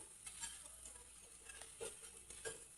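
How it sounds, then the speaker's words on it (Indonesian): Pia-pia (bakwan) vegetable fritters frying in hot oil in a home kitchen, a faint, steady sizzle with small crackles and occasional soft pops, close by and with no voices. "Kita goreng pia-pia hangat-hangat."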